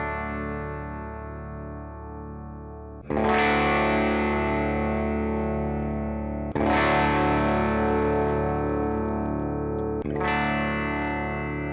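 Bodiless plank electric guitar with a Floyd Rose bridge strumming an open chord three times through heavy distortion, each strum ringing on with a long sustain, loud and alone.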